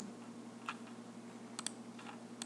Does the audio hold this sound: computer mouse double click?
yes